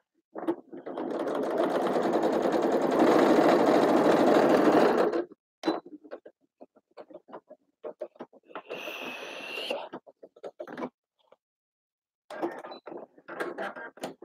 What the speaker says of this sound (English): Next, we sew his center seam, leaving the back open between the notches